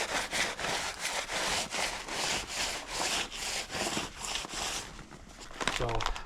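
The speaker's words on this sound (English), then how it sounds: "I'm gonna clean this edge up" The steel cutting edge of a Fisher MM2 7.5 ft snow plow scraped clean, heard as steady rhythmic back-and-forth rasping strokes, close and fairly loud, with a few brief knocks near the end.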